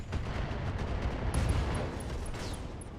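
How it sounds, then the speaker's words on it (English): An ammo explosion in the mech game Roguetech, a burst of rumbling blasts and crackling gunfire-like booms rolling over a few seconds, with faint high electronic beeps and a sweeping whoosh near the end. "That was an ammo explosion."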